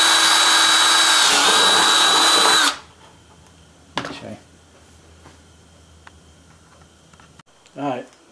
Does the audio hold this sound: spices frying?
no